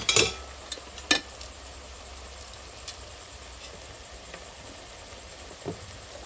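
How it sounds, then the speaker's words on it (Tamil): A spoon stirs salt into a simmering pot of kurma, scraping the metal with a few sharp clinks near the start and a steady soft bubbling beneath, close and fairly quiet. "உப்பு போட்டு நல்லா கலக்கி விட்டுட்டு"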